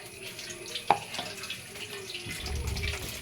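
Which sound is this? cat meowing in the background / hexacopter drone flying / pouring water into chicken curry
pouring water into chicken curry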